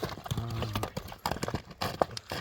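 Horse hooves clip-clopping in a steady walking rhythm, close and clear, with a brief whinny-like sound partway through and faint voices in the background.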